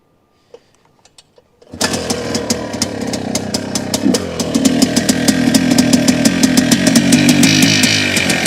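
A 1982 Kawasaki KDX450 two-stroke motorcycle, started stone cold with the choke on, gives a few kicks and clicks before catching and bursting into a loud, rapid, crackling idle that climbs into revving.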